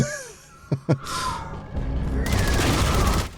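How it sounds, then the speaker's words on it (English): A grenade launcher fires in the first-person shooter Armatus, with a couple of sharp booming shots followed by a sustained roar of explosions and gunfire, loud and close. "I was trying to use the grenade launcher and for some reason he wasn't grenading anybody."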